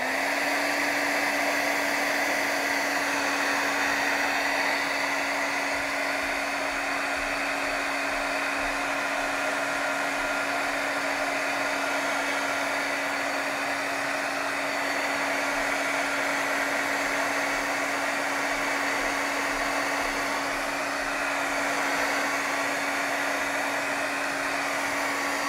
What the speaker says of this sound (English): Let's hit that with a heat tool again